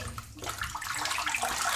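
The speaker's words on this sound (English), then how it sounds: "I'm just going to rinse the tub out because there's not much left in the tub." Water running and splashing while a shaving soap tub is rinsed out with cold water, a steady close wash of noise with no talk.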